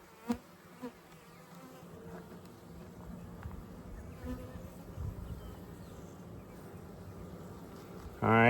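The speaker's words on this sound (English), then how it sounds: "the bees got a little upset with me" A steady low buzzing of many agitated honey bees hums throughout, close and continuous, with a few sharper knocks early on and a brief loud rustle at the end.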